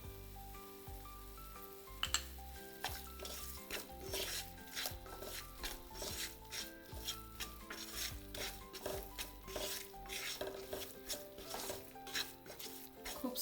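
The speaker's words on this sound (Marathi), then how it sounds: "खूप स्लो गॅसवरती आपल्याला पीठ हे भाजून घ्यायचं आहे." Wheat flour roasts in ghee over a very low flame and is stirred for sweet sheera, with rhythmic spoon scrapes against the pan repeating steadily over a soft sizzle, quiet and close, over faint background music.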